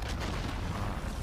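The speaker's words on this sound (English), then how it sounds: "Enemy cruise missile incoming" A cruise missile strike in Call of Duty Modern Warfare, a heavy, loud rumbling explosion boom that fills the whole moment with dense low roar and no gaps.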